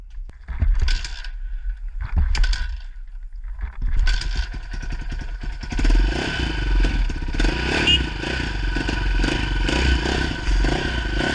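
A 1998 KTM LC4 620 single-cylinder motorcycle, first a few short rough bursts and clatter, then a sustained engine roar with rising revs as it rides off, close and loud.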